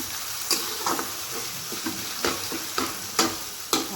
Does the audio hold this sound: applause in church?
no